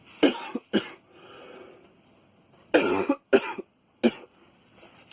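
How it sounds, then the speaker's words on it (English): Several harsh coughs in short bursts, close up, with pauses between them and a brief throat-clearing sound. "I'm going to cough."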